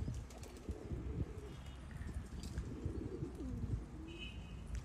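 Pigeons from a flying flock coo softly and steadily against a rumbling background, with a few faint chirps and the odd wing flutter. No voices are heard.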